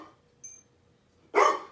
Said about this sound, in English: And he's barking at the cats or whatever